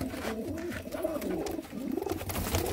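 A flock of pigeons kept for sale, some of them pearl-marked, coos steadily and close by, with dense, overlapping throaty rolls forming a continuous murmuring chorus with no talk.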